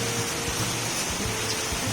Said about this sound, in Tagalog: Ulan na lang siya, wala ng hangin.